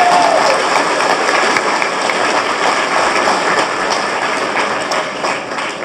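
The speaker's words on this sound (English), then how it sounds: "So I think we should all give her a round of applause." Dense, sustained applause from an audience at a business forum and member meeting, loud and steady throughout, tapering slightly at the end.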